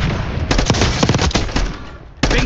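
Dense bursts of automatic gunfire crackle loudly in a video game firefight, rapid overlapping shots continuing for about two seconds before a short lull and another burst.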